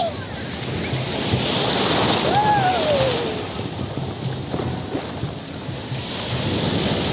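Ocean surf washing steadily onto a white-sand beach at Anyer, a continuous broadband wash with wind buffeting the microphone, while a whistle-like tone and faint voices rise briefly over it.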